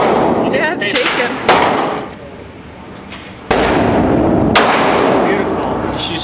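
A .22 gun is fired at a target outdoors, and several sharp cracks ring out over a steady noisy background, with a loud report near the start and another midway.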